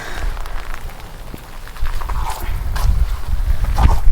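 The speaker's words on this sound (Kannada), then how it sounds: "ಮಳೆ ಜಾಸ್ತಿ ಆಗೋಯ್ತು" Heavy evening rain patters steadily on a nearby surface at Manjarabad Fort, with scattered louder drips and splashes breaking through the dense hiss.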